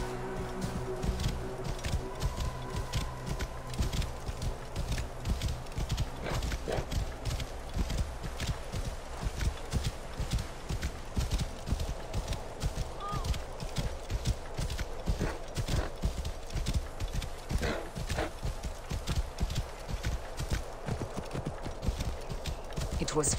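A horse gallops in Assassin's Creed Origins, its steady rapid hoofbeats clip-clopping continuously throughout at moderate level, with occasional game sounds.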